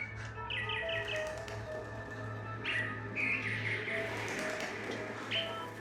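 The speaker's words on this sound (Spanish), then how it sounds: "Un pájaro. No puede ser." A small bird gives faint, quick bursts of chirps at scattered moments over a low, constant indoor hum.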